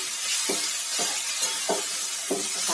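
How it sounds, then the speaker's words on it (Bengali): Greens stirred in a frying pan with potato and eggplant, a steady sizzle with four evenly spaced scraping stirs, close and clear. "শাকটা দিয়ে একটু নাড়াচাড়া করবো।"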